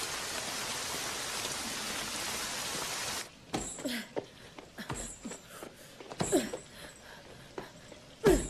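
Steady rain falls as a dense, close hiss for about three seconds, then stops abruptly and gives way to scattered clicks and knocks.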